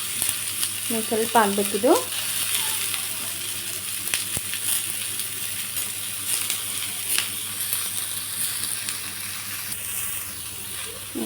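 Onions frying in oil in a pan for a dhaba-style paneer curry, a steady soft sizzle running throughout, with a brief stir or clatter near the start and a voice talking quietly over it.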